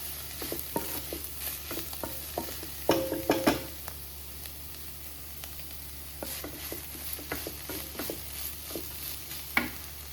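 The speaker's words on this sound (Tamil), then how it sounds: "மசாலா போட்டு நல்லா மசாலா கொஞ்சம் வேகிறது வரைக்கும் கொஞ்சம் கிண்டிக்கலாம்." Beetroot masala stir-fry being stirred in a pan, soft scraping and tapping of the spoon in irregular bursts over a faint sizzle, close and quiet with no talk.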